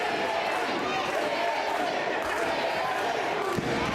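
A wrestling crowd at an independent show roars steadily throughout, a dense, loud wall of voices with rhythmic swells that fit a chant of a wrestler's name, while a commentator talks over it.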